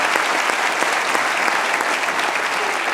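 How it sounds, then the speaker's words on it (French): Loud, sustained audience applause at a festive anniversary evening show, even and continuous clapping from a large crowd for two performers, with no voices above it. "Sylvain et Martin, on peut vraiment les applaudir"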